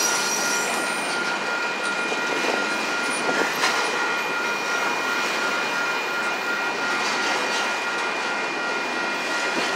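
Union Pacific 6848 freight train rolling past in Saint Elmo, Illinois, a continuous loud rumble and hiss of cars with a steady, fairly low-pitched electronic bell tone ringing over it throughout.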